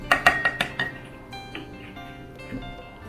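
A utensil clinks rhythmically against a bowl while olive oil is mixed into a garden salad, several quick bright taps at first, then softer scattered knocks and stirring.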